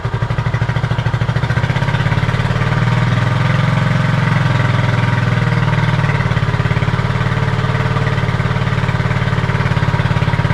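A Honda CB250RS motorcycle engine idles steadily nearby, a low continuous throbbing rumble that holds an even rhythm throughout with no talking.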